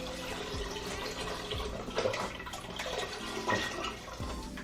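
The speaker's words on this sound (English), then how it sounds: "Just pouring the whole thing in there." Beef bone broth, a full 32-ounce container, pours steadily into a pot in a continuous close liquid rush with faint splashing.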